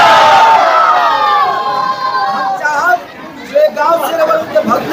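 A dense crowd of people at a village gathering, loud overlapping chatter and shouting voices close by, with rising cheers and calls breaking through the hubbub.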